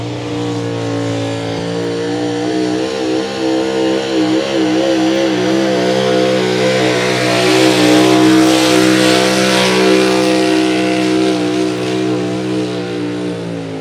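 Modified trucks on street-legal DOT tires roar steadily through a truck pull, engines revving hard with a loud, sustained drone that swells toward the middle before easing slightly.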